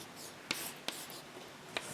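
Faint scratchy strokes of writing on a board during a lecture on tensors, with three sharp taps as the writing tool strikes the surface against a soft background hiss.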